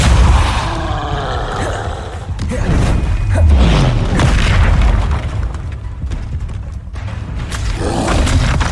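Spell blasts and booming impacts in Hogwarts Legacy on PS4 Pro, loud low thuds and bursts layered over continuous game music and effects.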